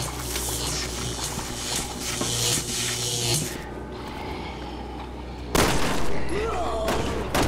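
Gunfire in Resident Evil 6 on PS4, a run of sharp bursts over a dense, busy game soundscape, followed by a loud blast near the end.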